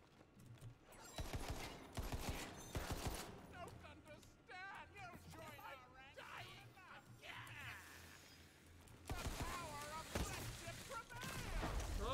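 Gunfire bursts from the fantasy shooter Tiny Tina's Wonderlands, loud and irregular, with dense broadband crackles and thumps in clusters, heard alongside speech and game sound effects.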